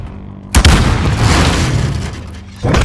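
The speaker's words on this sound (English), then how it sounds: "Stun grenade." A stun grenade goes off in Call of Duty Warzone Pacific with a loud, sudden boom about half a second in, followed by a long ringing, roaring tail that fades before another loud burst near the end.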